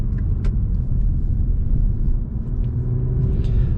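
An Infiniti Q60 Red Sport 400 in third gear slowing for an exit ramp, a steady close low engine and road rumble inside the cabin, with faint clicks over it and no talk.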